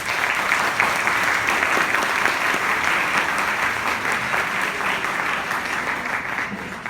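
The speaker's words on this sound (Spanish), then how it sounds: "Recibamos con un fuerte aplauso a Roy." A Catholic gathering's audience gives a strong, sustained round of applause to welcome the speaker Roy Schoeman, dense and even crowd clapping that holds at a steady loud level for about seven seconds and fades slightly at the end.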